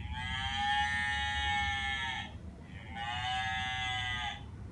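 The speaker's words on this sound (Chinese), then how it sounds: "哇，有哞哞的牛的声音呢" Recorded cow moos from a children's farm-themed pull-tab sound book, two long harmonic lowing calls separated by a short gap, clear and fairly loud over a low background hum.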